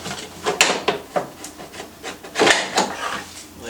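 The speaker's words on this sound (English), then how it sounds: "We're going to use this to remove the belt cover." A plastic belt cover being pried and worked loose from a Toro PowerMax snowblower, a run of close scraping, rubbing and knocking sounds in irregular bursts.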